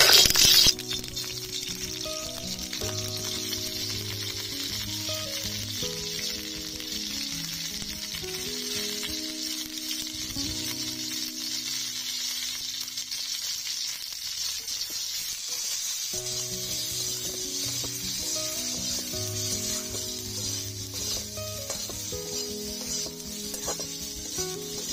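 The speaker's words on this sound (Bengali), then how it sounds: "নুন হলুদ দিয়ে ভেজে নেব" Strips of cauliflower fry in oil with salt and turmeric, giving a continuous close sizzle with light clinks and stirring, broken by a short quieter stretch midway, no voices.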